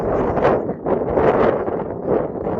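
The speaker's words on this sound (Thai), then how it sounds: "ทะเลใหญ่มากนะคะทุกคน ทะเลแบบ ใหญ่ลมแรงด้วยแต่ไม่หนาวเลย" Strong wind buffets the microphone beside a large open sea on the northern coast of Scotland, a loud, continuous broadband roar that surges and eases in gusts throughout with no voices.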